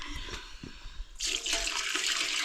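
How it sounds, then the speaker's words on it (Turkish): Liquid for homemade village-style yogurt is poured through a cloth strainer, starting with faint drips and handling noises before a sudden steady splashing rush of liquid takes over. "Şimdi süzüyoruz."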